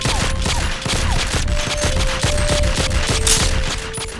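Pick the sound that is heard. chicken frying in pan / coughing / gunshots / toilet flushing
gunshots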